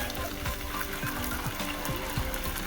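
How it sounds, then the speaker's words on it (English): Light sprinkle of water over potted garden plants, a continuous gentle splashing and trickling with small droplet patters, close and fairly steady. "Just a little sprinkle of water."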